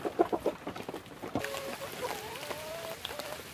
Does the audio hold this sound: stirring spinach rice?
no